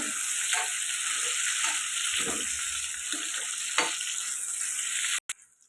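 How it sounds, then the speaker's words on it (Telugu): Cut drumsticks sizzle in a little hot oil in a pan, a bright steady frying hiss with brief stirring scrapes, cutting off abruptly near the end, with no voices. "ఇవి కొద్దిగా ఆయిల్లో ఫ్రై అయితే బాగుంటుందండి"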